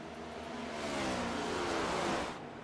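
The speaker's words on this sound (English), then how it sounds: "You can hear the lap cars." Lapped race cars roar past one after another on an oval in a sim racing game, their engine note swelling to a steady drone mid-pass before fading.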